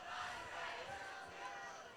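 A high school football crowd, Hudson Raiders supporters on the far side, chants and cheers in a continuous, distant swell with no breaks.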